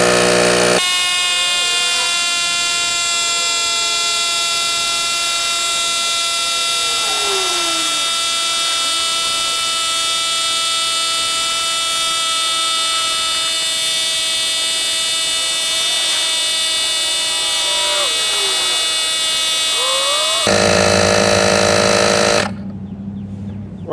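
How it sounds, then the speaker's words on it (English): A GOOLOO cordless tire inflator pumps a tire up to 32 psi, a loud, steady, buzzing compressor drone that runs unbroken for about twenty seconds, shifts pitch near the end, then shuts off. "This is one of the fastest cordless tire inflators that I've ever tested"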